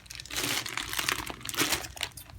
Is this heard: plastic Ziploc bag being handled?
yes